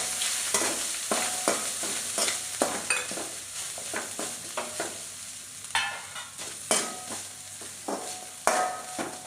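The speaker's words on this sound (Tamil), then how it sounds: "கொஞ்சம் தேங்காய் வதங்கணும். ஒரு 5 மினிட்ஸ் வதக்கிக்கலாம்." Grated coconut and raisins sautéing in a pan for rava laddu, a soft sizzle punctuated by regular sharp scraping strokes of a spoon, close and alone without talk.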